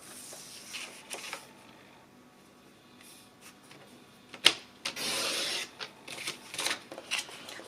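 Card being cut into a 2-inch strip for a box, with quiet scraping and slicing strokes, one sharp snap, and a longer drawn cutting pass up close.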